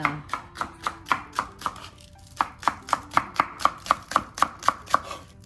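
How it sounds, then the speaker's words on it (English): A knife chops green onions on a cutting board, about twenty sharp, evenly spaced taps in a quick steady rhythm, close and clear, with a brief pause partway through. "So green onions, I just chop it in a little"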